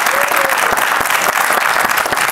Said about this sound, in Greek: Για χειροκροτήστε να δω τι βγάζει το κριντζόμετρο